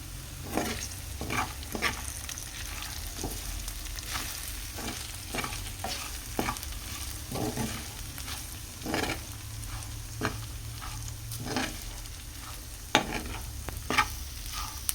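Okra frying in a pan for curry, stirred repeatedly, with a steady close sizzle broken by sharp scraping strokes of the spoon at irregular intervals, no voices.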